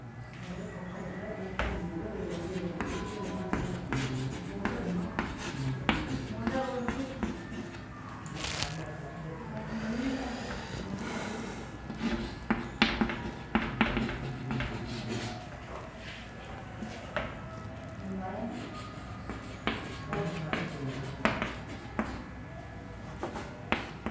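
Chalk or marker writing on a classroom board during an English grammar lesson, a string of short taps and scratchy strokes in irregular bursts, faint, with quiet room noise between strokes.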